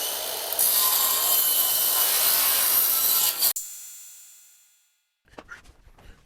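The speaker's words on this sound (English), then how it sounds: "get the blade up to full speed, and then go ahead and make your cut" Circular saw ripping through plywood, a loud sustained high whine and cutting roar that stops abruptly and spins down into silence, followed by faint clattering and handling sounds.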